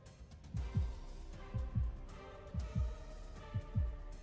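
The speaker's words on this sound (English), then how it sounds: "My heartbeat is all I can hear" A game heartbeat effect in Love and Deepspace pulses with four clear lub-dub pairs at a steady, slightly quick pace, deep and thumping over a faint low drone.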